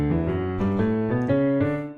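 A piano scale played in swung quavers, the notes stepping through in a long-short lilting rhythm, each note clear and sustained, played alone without speech.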